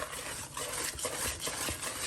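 Steady, brisk stirring of cornbread batter in a bowl by hand, a continuous soft scraping and swishing with a rhythmic pulse, up close.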